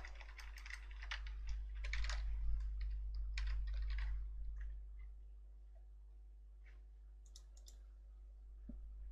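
Rapid clicking keystrokes on a computer keyboard while a player's name is entered in a football video game, close and quiet, bunched in quick bursts early and thinning to a few isolated taps.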